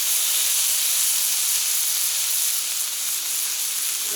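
Onion smash burgers searing on a Camp Chef FTG600 flat top grill outdoors in record cold of -23F: a loud, even, continuous hissing sizzle held steady throughout with no distinct strokes, no talk.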